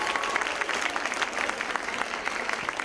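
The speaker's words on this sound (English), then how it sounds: "A huge round of applause." Applause from a theatre audience after a stage performance, steady, full clapping throughout that sounds mid-distance and fairly loud.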